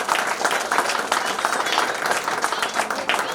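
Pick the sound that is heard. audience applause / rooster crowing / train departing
audience applause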